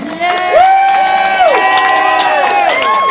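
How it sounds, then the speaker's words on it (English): A crowd at an outdoor slugburger eating contest cheers and whoops loudly, with sustained high shouting voices over a bed of clapping and crowd noise. "Another round of applause for Lindy, our timekeeper."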